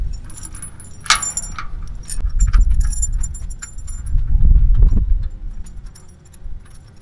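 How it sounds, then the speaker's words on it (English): A metal security pin pushed into a trailer hitch behind a van, heard as close metallic jangling and clinking, with a sharp rattle early on, heavier knocking in the middle and quieter clicks trailing off at the end. "I use this pin."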